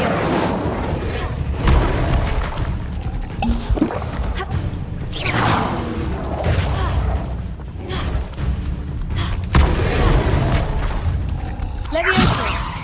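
Fiery Incendio spell blasts go off in the Hogwarts Legacy video game, with several booming whooshes and bursts spread across the clip among other spell effects and a shouting voice.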